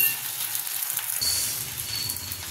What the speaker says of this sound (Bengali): এবার অপর পিঠে ডিম গোলা দেওয়ার জন্য ডিম ঢেলে দিলাম